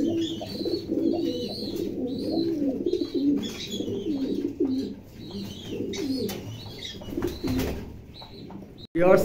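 Racing and fancy pigeons coo repeatedly in a loft, with layered throaty calls and occasional chirps close by and a brief rustle near the end.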